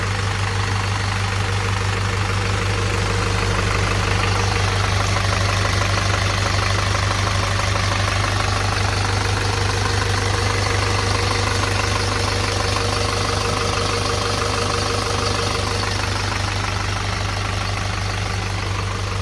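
A 120 hp Isuzu 4HG1 diesel in an NPR dump truck idles steadily and loudly, a constant low rumble with a close mechanical clatter that holds unchanged throughout, with no voices.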